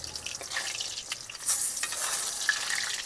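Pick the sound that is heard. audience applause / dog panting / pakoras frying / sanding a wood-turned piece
pakoras frying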